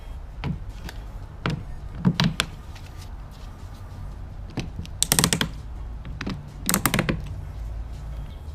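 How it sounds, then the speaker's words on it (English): Tile leveling wedges are being tightened with pliers, making a series of sharp plastic clicks and taps. The clicks come singly and in short clusters over a low room background, with no talking. "as you insert the wedge and as you tighten down with the pliers"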